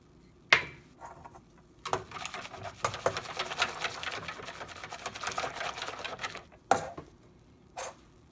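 Spoon whisked vigorously through heating milk in a pot as powdered milk is added, a rapid scraping, tapping patter for several seconds, framed by a few sharp clinks against the pan.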